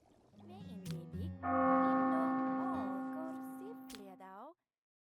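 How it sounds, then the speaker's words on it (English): A bell rings out in the medieval colony-management game Norland as a prison-escape alarm, holding a long sustained tone with shifting overtones that fades out after about three seconds, preceded by a brief low rumble. "The bell just rung."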